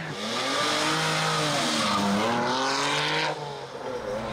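Mitsubishi Legnum VR-4 V6 engine pulling hard at full throttle on a lap-timing run, a loud, close, rising and falling rasp with gear-change dips and tyre squeal, no talking over it.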